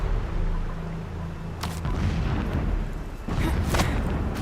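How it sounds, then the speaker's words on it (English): Distant explosions in the video game Horizon Zero Dawn, a low rumbling series of booms with sharper crackling bursts, moderately loud and no speech over them. "Explosions in the distance."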